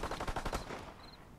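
Rapid automatic gunfire in a Call of Duty: WWII multiplayer match, a quick burst of about a dozen sharp shots in fast rhythm that stops, followed by a faint fading tail.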